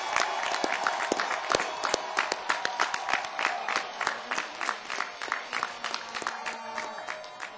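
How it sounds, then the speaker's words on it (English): Engineering graduates at a college commencement cheering and applauding for their parents, a crisp mass of near and far clapping with distinct individual claps standing out and a faint cheer underneath, easing off toward the end. "turn around and face your parents and other supporters and give them a cheer"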